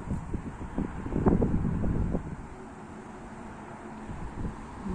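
Wind buffets the microphone in low, rumbling gusts near the Aragvi River in Mtskheta, Georgia, stronger at first and then easing into a steadier soft roar.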